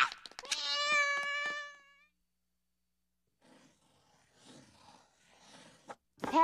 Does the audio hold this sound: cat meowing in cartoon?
yes